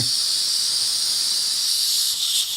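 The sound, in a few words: gas leaking from paintball marker valve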